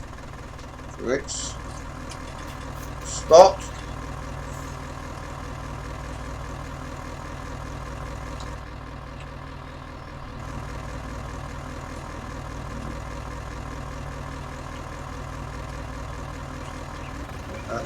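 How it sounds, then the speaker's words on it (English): A tractor engine runs steadily at a low, even drone during the sugar beet harvest, continuing throughout with a couple of brief sharp knocks, while someone speaks briefly. "And so bring this tractor around"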